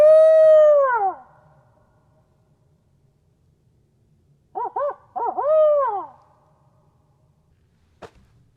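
Owl hoots ring out in a quiet evening setting: one long, loud descending call, then a pair of short hoots followed by another drawn-out wavering call, clear and near with silence between, ending in a single sharp click.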